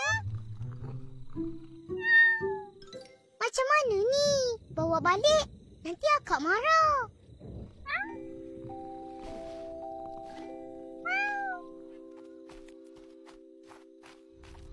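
A cartoon cat gives several short, rising meows amid animated children's voices and scampering footsteps, followed by a sustained musical tone under more chatter.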